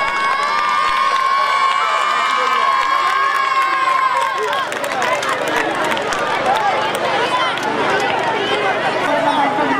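An audience at a school fire safety awareness programme cheering and shouting, with children's voices rising into a loud, lively crowd roar through the second half after a talkier stretch.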